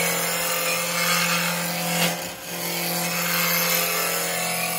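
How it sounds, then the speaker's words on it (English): A roughing gouge scraping spinning wood on a woodturning lathe, a steady dense rasping hiss over the constant hum of the motor, briefly swelling and then dipping midway as the tool shifts, with no talk. "So technically we're not cutting, we're scraping."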